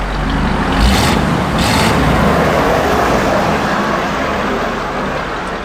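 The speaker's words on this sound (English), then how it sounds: "A noisy truck come by." A heavy truck rumbles past nearby, a loud broad roar of road noise that swells early and then stays steady with no talking.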